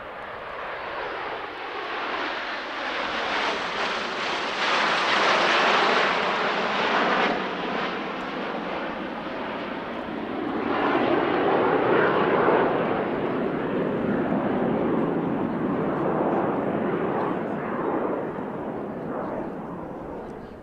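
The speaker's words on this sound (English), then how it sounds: "all 9 jets get back together for what can best be described as a series of parade-style passes" Nine jets make parade-style passes at an airshow: a loud, sustained roar swells, eases and builds again over about twenty seconds as the formation sweeps past.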